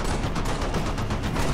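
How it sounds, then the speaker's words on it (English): Missiles and heavy weapons fire in rapid succession during a Halo: Reach mission on Legendary difficulty, a dense, loud, continuous barrage of repeated bursts throughout. "fucking missiles are being shot"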